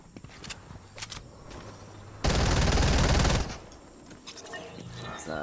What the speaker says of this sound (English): I hear more guns shooting back there.